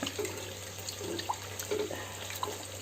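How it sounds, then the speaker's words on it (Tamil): Raw chicken being rinsed under a running kitchen tap, a steady stream of water splashing into a sink with faint sloshing and handling noises, fairly quiet and with no talking. "அப்படியே இந்த சிக்கனை கழுவி அதில் போட்டுருவோம்."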